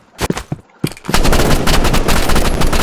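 Rapid gunfire from the Roblox shooter game Rivals, with a few isolated shots at first and then a dense, continuous burst of automatic fire that stays loud and close for the rest of the clip.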